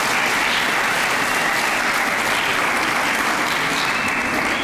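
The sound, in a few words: audience applause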